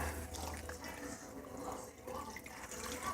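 Water pours into a pressure cooker while chicken is being prepared, a continuous close splashing wash that swells and eases slightly as the stream shifts.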